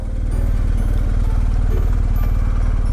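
A motorcycle engine running steadily and loud up close, with a fast even low throb as the rider pulls in on a road in Wales, continuous throughout without pause.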